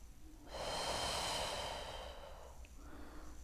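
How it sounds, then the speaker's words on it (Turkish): Deep, slow breathing during a pregnancy exercise routine, with a long airy inhale then a gentle exhale, close and fairly soft, with no talking. "Nefes al."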